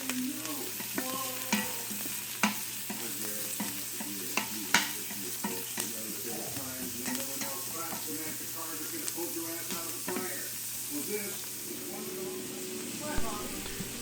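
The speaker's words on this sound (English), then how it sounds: "add your chopped onions to the Instant Pot and stir to saute" Chopped onions sauté in melted bacon grease inside an Instant Pot, giving a steady close sizzle with repeated stirring scrapes while a person talks over it.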